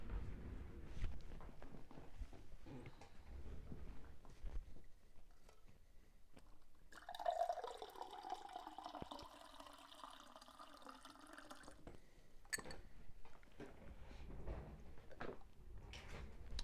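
A small amount of water runs from a tap and is poured for a few seconds, faint and somewhat distant, with footsteps and handling noises before and after, and no speech.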